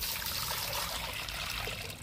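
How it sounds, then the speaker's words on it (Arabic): Cold water pouring into a bathtub basin before a kitten's bath, heard as a steady, close, splashing stream that runs on without a break and eases slightly at the end. "نعمرت هذا بالماء"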